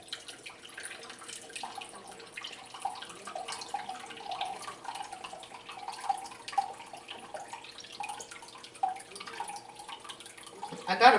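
Red wine vinegar, about a cup and a quarter, pours into a mixture for homemade barbecue sauce, giving a quiet, steady liquid trickle with small splashy bursts that swell briefly at the end.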